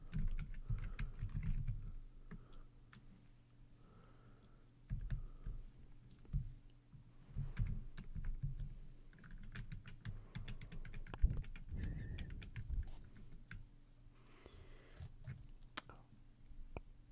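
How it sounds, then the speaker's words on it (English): Soft clicking of computer keys typed in irregular bursts, with quiet pauses between runs and a low background hum. "Let me double check some typing sounds."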